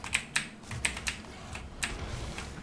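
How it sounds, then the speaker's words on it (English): Keys clack on an EVGA Z10 mechanical keyboard in a run of crisp, irregular, fairly quiet strokes with no talking. "the EVGA Z10 mechanical keyboard"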